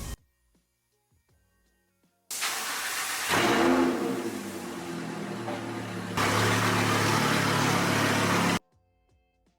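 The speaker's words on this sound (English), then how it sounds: "Once you're done washing it, you can rinse the entire vehicle from the top down." A pressure washer rinses a car from the top down, its hissing water spray starting abruptly, running loud and steady for several seconds with a brief change in tone, then cutting off into quiet.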